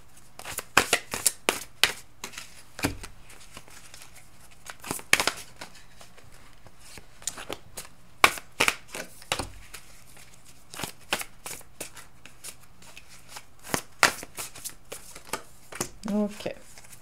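Tarot deck of druid cards being shuffled, a steady run of crisp riffling snaps and soft card slaps close by, with a person talking intermittently over it.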